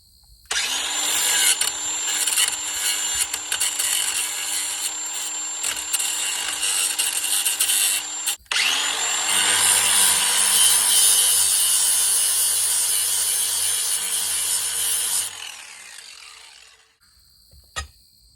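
Sanding a fitting on a Spector Duramax Flo N Go rolling fuel tank so a nylon nut can thread on, a steady harsh abrasive rasp running continuously with one brief pause, then fading to quiet.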